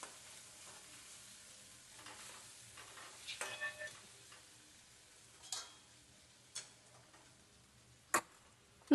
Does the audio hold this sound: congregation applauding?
no